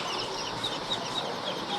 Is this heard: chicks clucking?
yes